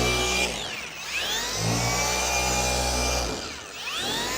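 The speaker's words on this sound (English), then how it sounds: "So let me spread out the polish here, the all-in-one." A machine polisher hums steadily at close range while spreading 3D Speed all-in-one car polish across a paint panel, its tone swelling and dipping slightly as the pad moves, with no talking.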